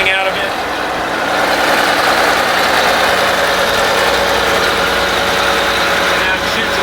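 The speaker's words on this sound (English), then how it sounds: "Because of the engine running" Engine of a custom NASCAR bus running at a steady idle, a loud, constant rumble with mechanical vibration holding evenly throughout.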